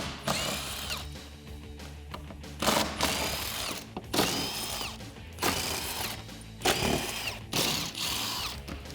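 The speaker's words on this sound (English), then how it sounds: "we can remove the bolts that are holding on our carrier with a 13 millimeter socket" A ratchet socket wrench with a 13 mm socket loosens the bolts holding the tire carrier on a Jeep Wrangler JL, clicking in about six separate close bursts with short pauses between them.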